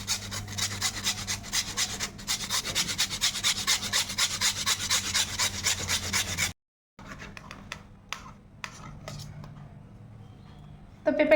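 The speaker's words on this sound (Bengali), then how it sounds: "এই যে ঘষা মেশিন নিয়ে নিয়েছি, আর একদম সুন্দর করে এইভাবে গ্রেট করে নেব পেঁপেটা" Peeled raw papaya is rubbed against a hand grater in quick, steady rasping strokes, close and continuous for several seconds. The grating then breaks into quieter scattered scrapes.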